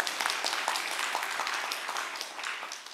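Soft, steady applause from a church audience at a seminar: a continuous patter of many hands at moderate distance, with no clear peaks.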